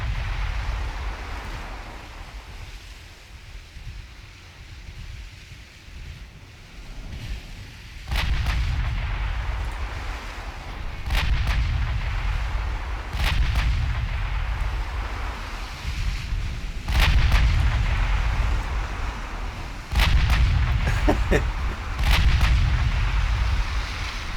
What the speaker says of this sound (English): 11-inch guns could actually be a problem, because they can be surprisingly punchy